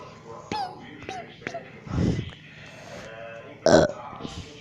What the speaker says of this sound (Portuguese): eu arrotei aqui porque eu já comi